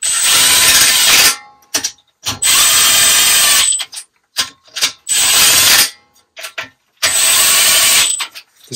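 A ratchet tightening cylinder head bolts on a Toro 8-32 riding lawn mower, loud close bursts of rapid clicking ratcheting in four long runs, with short irregular clicks and pauses between them.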